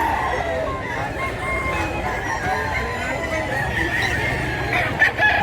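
A gamefowl rooster crows at a Cebu gamefarm over steady farmyard noise, with people talking in the background throughout.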